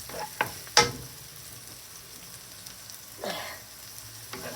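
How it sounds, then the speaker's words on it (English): Garlic frying in a pan while cooking a soup with Cuban oregano and cucumber tree, a faint steady sizzle with a couple of sharper stirring clicks and scrapes, no talk. "let's avoid burning the garlic, otherwise it becomes bitter"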